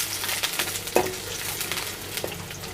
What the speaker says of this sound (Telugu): వీటిని అయితే మంచిగా ఫ్రై చేసుకుంటున్నా.